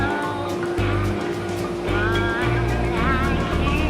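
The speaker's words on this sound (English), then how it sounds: "Just heard my car start." Twin-turbo Mazda RX-7 FD rotary engine running after start-up: a loud, steady low idle with a pulsing, lumpy rhythm and some whine above it, close by, with no talk over it.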